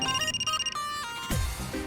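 A phone rings with a melodic electronic ringtone, repeated tonal phrases close and clear, with no voices.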